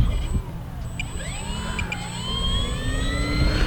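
An RC P-39 Airacobra warbird model plane takes off, its electric motor whining steadily with rising pitch while a high tone sweeps upward, close and fairly loud; faint voices are heard alongside.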